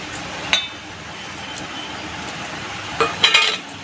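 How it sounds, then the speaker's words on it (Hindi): A spoon clinks against a bowl while mixing potato, cumin, green chili and coriander: a soft, steady background with one sharp tap early, then a cluster of quick metallic clinks near the end. "तो अभी सब एक ही में मिक्स करती हूँ दोस्तों"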